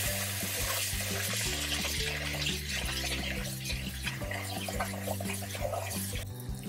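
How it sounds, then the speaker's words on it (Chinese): Long and round glutinous rice being washed with water in a rice cooker pot, a continuous rushing, swishing wash of running water with faint clinks and a low hum beneath. "用清水洗2遍"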